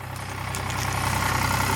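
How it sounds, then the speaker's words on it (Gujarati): At a cricket pitch at night, a tractor engine idles nearby with a steady, loud, low chugging throb that holds an even rhythm throughout and carries no talking. "એ લોકોએ પીચ પર અભી કે ટ્રેક્ટરમાં આવ્યું છે, તમે જોઈ શકો છો કે આવ્યું ટ્રેક્ટર।"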